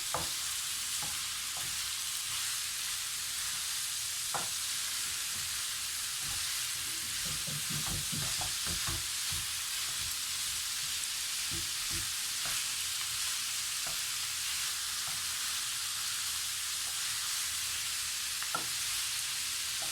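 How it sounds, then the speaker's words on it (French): Lasagne sauce is stirred in a pot over the heat, a soft continuous sizzle with scattered scraping and tapping of the spoon, fairly faint and without talk. "Voilà, on remue. Toujours en remuant."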